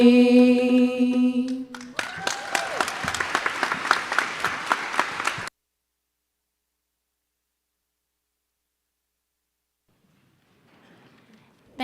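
Applause follows a string band's song at a high school senior awards day: tones and singing fade into about three and a half seconds of dense clapping that cuts off abruptly, then silence and faint room noise.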